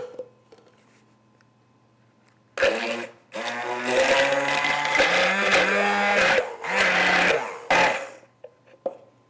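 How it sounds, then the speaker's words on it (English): A blender gives a quick mix of cream cheese, milk and herbs for a savory cream puff filling, running in a few loud motor bursts of about a second or two, with short pauses between pulses. "Also some of my herbs, and give this a quick mix."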